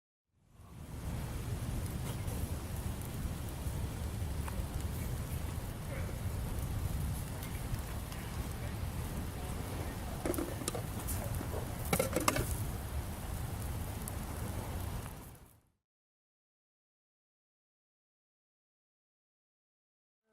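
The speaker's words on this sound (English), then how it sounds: "So the rain's still with us." Steady rain in Lee Valley patters and hisses for about fifteen seconds, with a few sharper drips and taps near the end, then silence.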